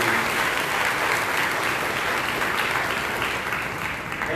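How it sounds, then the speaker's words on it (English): An audience at a nursing college pre-graduation and annual day function gives a steady, full round of applause that holds strong throughout, a thick continuous patter of many hands. "A big round of applause to you."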